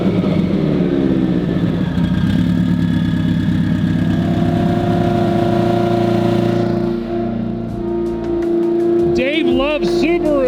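Subaru engine doing full pulls on a dyno, a loud sustained drone climbing and holding at high revs for several seconds, then easing off as the pull ends, with a brief voice near the close.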